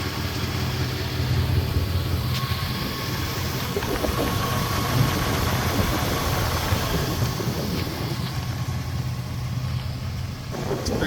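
A 1988–98 Chevy K1500 pickup drives along, its engine giving a continuous low rumble with road noise, steady and fairly loud from inside the cab, with no speech.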